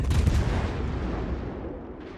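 Heavy warship guns firing in World of Warships, a dense booming burst at the start rolling into a sustained low rumble that slowly fades over about two seconds.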